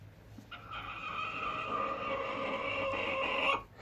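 Americana hen vocalizing in a nest box, a sustained harmonic clucking call held steadily for about three seconds, fairly close and alone, over a low background hum.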